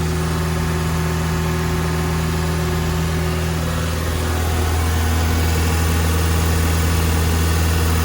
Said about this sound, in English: Once the engine gets up to temperature, the revs start to fall back down and it idles at 850.